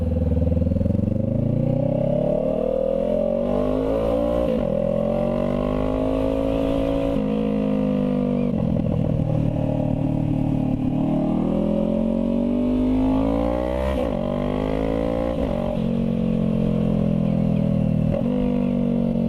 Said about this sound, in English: Man, I love the sound of that engine.